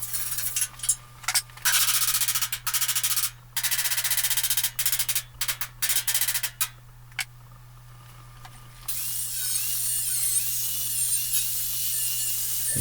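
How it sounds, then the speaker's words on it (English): Sharp, rapid hammer blows on a metal panel edge of a replica Sdkfz.222 scout car, closing a gap, in irregular bursts, close and loud, over a steady low mechanical hum, ending in a continuous whooshing noise. "A little bit of hammering on that edge just to try to close up the gap a bit"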